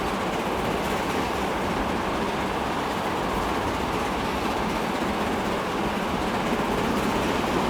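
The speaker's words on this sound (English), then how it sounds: "That's a freight train." A freight train in the video game Transport Fever 2 moving quickly past, a steady, dense rumbling roar of wheels and cars that holds evenly without a break throughout.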